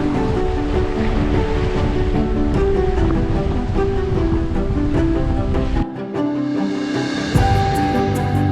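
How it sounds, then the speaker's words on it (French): Steady roar of wind and breaking waves at sea aboard a sailboat, continuous and loud, with a brief dip before the rushing water surges back in. "Le vent est arrivé."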